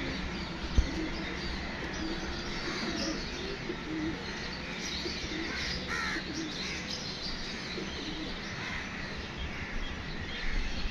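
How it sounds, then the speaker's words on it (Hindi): Pigeons at a pigeon-flying gathering coo softly in the background, low repeated calls over a steady hum of outdoor ambience, faint throughout. "ये कबूतर जी 5 कबूतर है दोस्तों, 3 कबूतर 2 मादियाँ"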